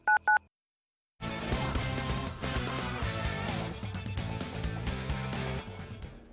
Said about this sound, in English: Just dial 3s.